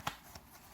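A tarot card deck being shuffled, a quick crisp riffle followed by a softer card flick, brief and quiet with no voices.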